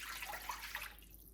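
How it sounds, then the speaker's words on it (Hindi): Water pours into a cooking pot for boiling chicken breast, a short, soft, splashing stream that fades out after about a second, with no talk. "2 कप पानी डालें"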